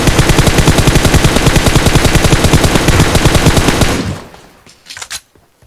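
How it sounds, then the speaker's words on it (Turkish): Loud, close automatic gunfire from PUBG Mobile, a rapid sustained burst of evenly spaced shots for about four seconds, then it cuts off, followed by a couple of fainter scattered shots. "Abi bana sıkıyorlar şu an"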